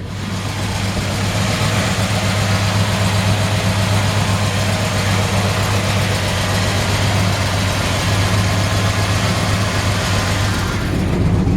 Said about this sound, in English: It's a good sounding engine.